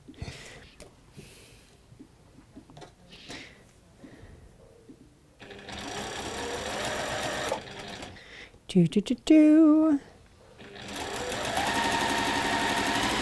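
A sewing machine stitches binding onto a quilt at a quarter-inch seam allowance. It hums in short runs and then longer steady bursts, with people talking in between.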